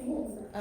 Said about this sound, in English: one of the dogs is barking